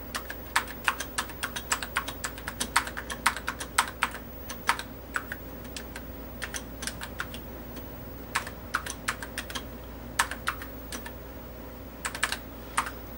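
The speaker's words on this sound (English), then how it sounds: "Sorry for the typing." Rapid keystrokes clatter on a SOL-20 computer keyboard while data is entered, coming in irregular bursts of close, crisp clicks with brief pauses, no talking.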